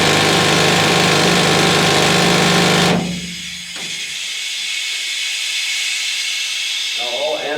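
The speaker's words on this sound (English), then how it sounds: "Now what allows us to do so is what's known as the jack leg. That's what this is." Pneumatic jack leg rock drill in a Colorado gold mine: a loud, steady hissing roar runs for about three seconds, then stops, leaving a softer hiss of air and a fresh burst near the end.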